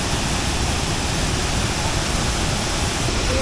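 The Gundicha Ghagi waterfall in Keonjhar roars close by as a loud, steady, broadband rush of falling water that continues unbroken throughout.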